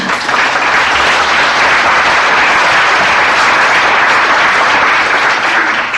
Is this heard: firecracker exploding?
no